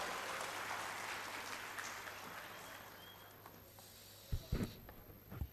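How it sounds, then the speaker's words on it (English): Audience applause for a speaker taking the stage at a BRICS Youth Council entrepreneurship event at IIT Guwahati, a dense steady wash of clapping that slowly fades, ending in a few louder scattered claps. "Please, a big round of applause."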